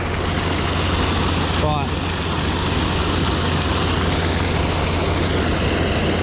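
Tractor engine running steadily under load while hauling manure during fall fieldwork, a loud continuous low drone with a brief spoken word partway through.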